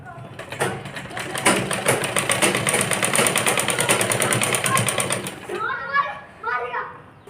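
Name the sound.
sewing machine stitching a skirt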